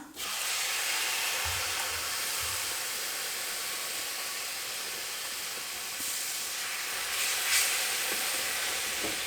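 Tomato pulp poured into a hot pan for pav bhaji, giving a loud, steady hissing sizzle close by that holds for several seconds, with a brief stirring clatter near the end.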